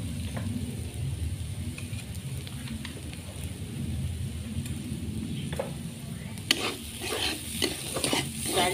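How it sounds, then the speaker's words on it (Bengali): Red lentils fry in a pan with a steady soft sizzle while a spoon scrapes and stirs them, the stirring strokes growing louder and more frequent toward the end. "ডালটা ভাজা হয়ে গেছে,"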